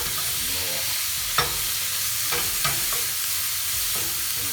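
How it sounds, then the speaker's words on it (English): Shrimp sauté in a pan of green cilantro sauce under a constant sizzle, with a few sharp scrapes and clicks of stirring spaced through the short stretch. "move it around really fast in this sauce."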